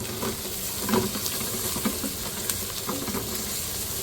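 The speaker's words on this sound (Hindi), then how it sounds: "उसके बाद हम डालेंगे शिमला मिर्च, ये भी 1 प्याली है, इसको भी फ्राई कर लेते हैं।" Capsicum frying in a pan for egg chicken fried rice, giving a dense, continuous sizzle with soft stirring knocks throughout.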